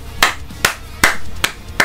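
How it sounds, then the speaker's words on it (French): Five single hand claps, close and crisp, spaced at a slow, fairly even beat with quiet gaps between them. "Carrément, j'applaudis."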